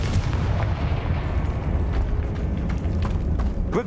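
A Confringo blasting spell erupts in the Hogwarts Legacy video game, a heavy rumbling explosion with crackling debris and bursts that stay loud and sustained, ending in a sharper crack.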